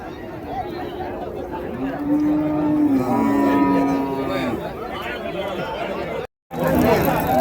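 Native cows and calves moo at a Friday cattle market in Uthangarai, one long low call standing out near, amid crowd chatter and people talking.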